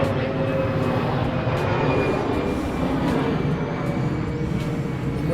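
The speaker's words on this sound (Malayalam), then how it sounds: "ഫ്ലൈറ്റ് പോകുന്നു" An airplane passes over a small garden in New Delhi, a broad, steady roar that holds at a constant level throughout, with no talking.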